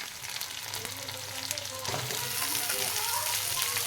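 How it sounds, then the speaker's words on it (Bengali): Sliced potatoes and onions fry in a pan with a dense, steady sizzle and occasional stirring, while a person speaks over it. "আলুগুলো এই পেঁয়াজের সাথে দিয়ে ভাজলে আলুগুলোও ভালো করে ভাজা হয়ে যাবে"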